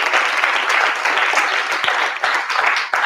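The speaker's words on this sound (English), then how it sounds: "Give yourselves a big round of applause" Audience applause fills a Dr. Claud Anderson talk on unity as a crowd from Tubman City claps: dense, steady clapping up close, loud and unbroken for about three seconds.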